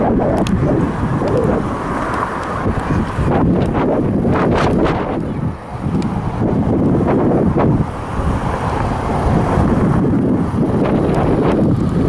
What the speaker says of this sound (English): Sorry for the wind, guys.